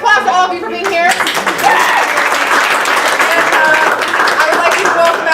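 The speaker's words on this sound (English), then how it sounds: "So round of applause to all of you for being here." A variety show audience breaks into loud, sustained applause that holds steady across the whole clip. A voice speaks briefly at the start.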